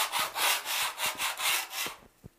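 Metal spatula scraping burrs off Venetian marmorino plaster, a rhythmic series of about six broad, rasping strokes back and forth, close and fairly loud, ending in a couple of faint taps.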